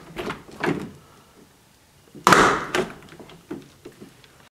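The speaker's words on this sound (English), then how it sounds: "Let's go ahead and open the front door and go ahead and close it nice and tight." Front and rear doors of a 1939 Cadillac Series 90 V16 formal sedan opening and shutting, with a few soft handle clicks and latches, then one solid, close thunk as a door closes firmly, followed by lighter clicks.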